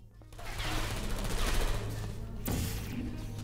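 Turrets in the co-op puzzle game Portal 2 fire a loud, dense, continuous rattle of rapid gunfire that swells and pauses briefly before resuming, close and without talk.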